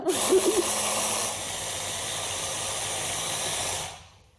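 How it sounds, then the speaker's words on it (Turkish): A kitchen blender runs on a cooking show, giving a loud, steady whirring hiss for about four seconds before winding down and stopping. "Evet, Blender'a bakıyorum. Vallahi bitmek üzere."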